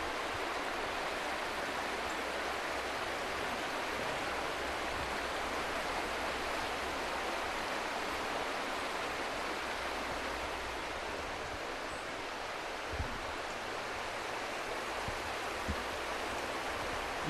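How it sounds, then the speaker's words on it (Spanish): The Pas river rushes steadily past at Vega de Pas, a continuous broadband wash of flowing water that stays even and unbroken throughout, with no voices over it. "Ahí tenemos el río Pas."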